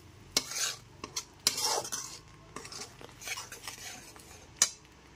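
Spice paste and tomato are stir-fried in a pan over low to medium flame, with a metal spoon scraping and clinking against the pan in irregular strokes under a faint sizzle, close and moderately quiet.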